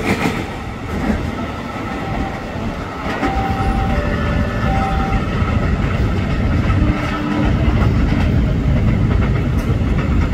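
A passing ten-car electric commuter train at Kebayoran station rumbles loudly and steadily, wheels clicking over rail joints, with brief high whines from the motors; no talking.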